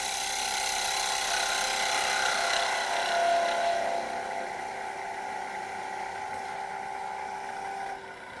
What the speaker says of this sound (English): switching to shear scraping mode. So with the head handle to the right, shearing through the fibres of the timber